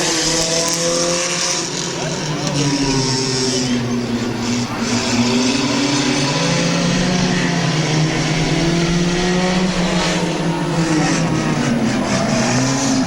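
Stock compact race cars roar away at the green flag at Midvale Speedway, a dense, loud pack of engines revving and rising in pitch together, continuous for the whole stretch with crowd and track noise beneath.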